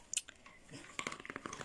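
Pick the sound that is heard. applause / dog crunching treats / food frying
dog crunching treats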